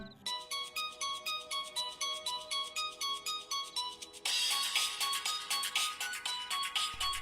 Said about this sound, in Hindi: फोन तो आ गया।